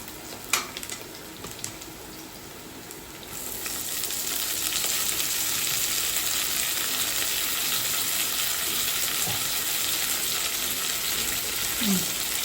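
Tomatoes, coriander and mint frying in a pan for tomato bath, a steady close sizzle that swells and holds after a few seconds, with faint clinks of stirring early on.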